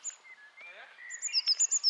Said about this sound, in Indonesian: Burung-burung.